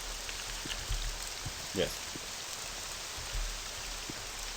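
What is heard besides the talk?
rain falling in the video game Morrowind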